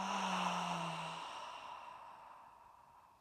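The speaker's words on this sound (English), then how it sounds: "Simple inhale through your nose. Exhale, let all of that go." A long, soft breath drawn in through the nose and slowly let out, a close airy sigh with a brief low voiced tone at the start, fading gradually toward quiet during a guided breathwork meditation.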